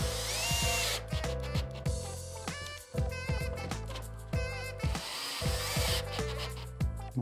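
A power screwdriver drives screws into a plasterboard ceiling, with repeated whining bursts rising and stopping, separated by short pauses, loud and close throughout.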